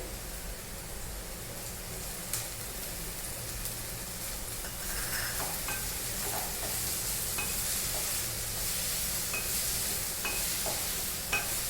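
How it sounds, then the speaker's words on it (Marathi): Vegetables with green onion, chilli and coriander being stir-fried in a pan for chicken momo filling, a continuous soft sizzle under occasional spoon stirs and light clinks, close and fairly quiet, no speech. "भाज्या जास्त शिजवायच्या नाही, फ्राय करायच्या भाज्या."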